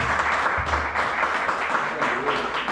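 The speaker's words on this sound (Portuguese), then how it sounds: "e as palmas" A crowd applauds, with steady clapping filling the room for a few seconds.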